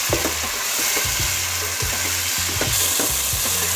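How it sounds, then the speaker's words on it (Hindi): Chopped tomato paste fries loudly in a pan for a potato chicken shorba, with a continuous sizzle and repeated scraping stirs, no talking. "टमाटरों का चॉप किया हुआ, और इसको अच्छी तरह फ्राई करेंगे।"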